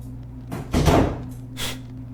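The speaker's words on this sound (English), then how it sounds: "Just throwing it back in there and closing the door." A door is swung shut after something is tossed inside, giving a sharp thud with a brief rattle and a lighter knock afterward, close and loud with no talk.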